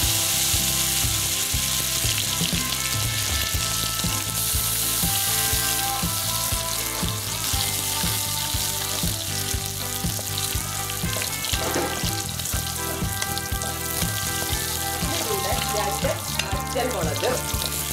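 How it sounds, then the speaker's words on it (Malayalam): Rice and urad dal fry in hot oil with popped mustard seeds for a tender jackfruit stir fry, giving a steady, close, loud sizzle that runs throughout with a few light clinks. "ഇനി ഇതിലോട്ട് നമ്മൾ എടുത്ത് വെച്ചിരിക്കുന്ന അരി അതുപോലെ ഉഴുന്ന് ചേർത്ത"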